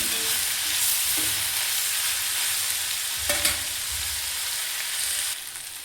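Chopped tomatoes sizzle and hiss steadily in a hot pan for Bisi Bele Bath while a spoon stirs them, with occasional scraping knocks against the pan over the continuous frying crackle.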